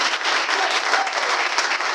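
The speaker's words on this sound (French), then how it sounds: "je veux d'abord, avant de continuer, que vous applaudissiez pour vous-même" An audience at an official launch event of a Gabonese teachers' network applauds steadily, a dense, continuous wash of many hands clapping at full volume without letup.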